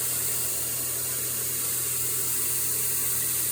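A Heretic H2 2x72 knife-grinding belt sander runs at a steady speed, giving a constant whirring hum with a hissing belt sound and no variation or voices.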